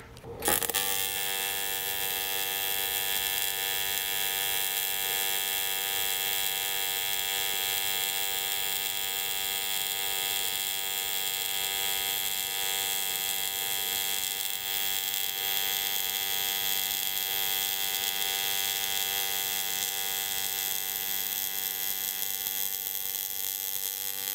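An aluminum weld bead is run in one long, continuous pass, giving a steady, even buzzing hum with a tonal whine that starts abruptly and holds close and loud throughout, with no talking.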